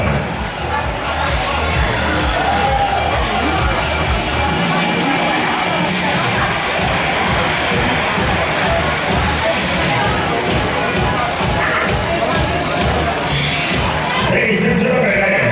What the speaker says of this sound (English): big round of applause for Miss Sophia Alizon.